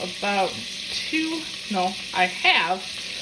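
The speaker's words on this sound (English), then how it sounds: "I'm starting with some olive oil and butter in my heated pan here." Olive oil and butter sizzle in a heated pan, a steady bright hiss lasting throughout, with intermittent voice-like tonal sounds rising over it.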